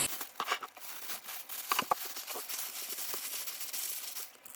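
Paper crinkles and crumples steadily, with close, sharp crackles and rustles over several seconds, as it is wrapped around marinated meat for baking.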